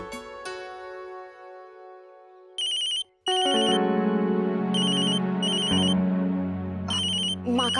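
A phone ringtone plays a loud, bright repeating melody of tonal chimes announcing a call from mother, with a brief pause midway before the tune continues.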